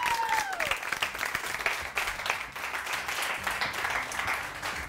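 A TV studio audience on a morning show claps continuously, a moderately dense burst of applause heard close and steady throughout.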